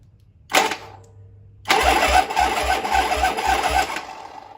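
A brief starter whine, then a 1973 Harley-Davidson Sportster motorcycle engine, last licensed in 1977, cranks with rhythmic pulsing turns and catches, running loudly and steadily nearby.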